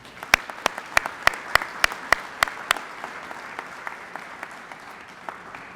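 Audience clapping at a school ribbon cutting ceremony, a short burst of applause with sharp individual claps standing out early, then thinning to scattered claps as it dies away.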